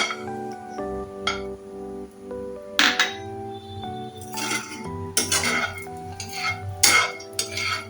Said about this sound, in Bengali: বেশিক্ষণ না এক থেকে দু মিনিট এটা একটু রোস্ট করে নিলেই হবে